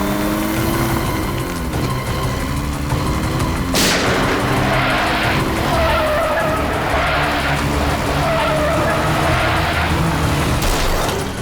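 A car skids with a long, loud tire screech over a roaring engine, broken by a sharp impact-like bang partway through, with no one speaking.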